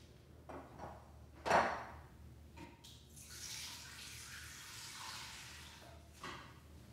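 Water is poured into an Instant Pot: a quiet, close splashing rush that starts midway and runs for a few seconds, preceded by a few soft knocks and clunks.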